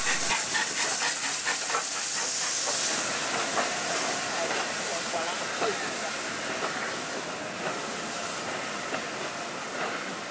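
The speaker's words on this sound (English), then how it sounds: "The pair seen here having arrived at Ramsbottom Station, taking carriages onto the sidings." Steam locomotives Duke of Gloucester and Lord Nelson at Ramsbottom station on the East Lancashire Railway, giving off a loud, continuous steam hiss with rhythmic chuffing and carriage clatter, with some voices.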